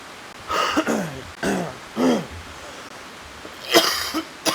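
Three or four harsh coughs ring out close by, spaced apart, with a quick burst of throat noise near the end.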